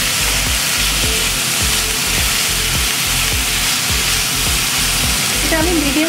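Chicken pieces frying in a pan over a medium flame as egg roll filling, a steady loud sizzle with faint stirring scrapes throughout.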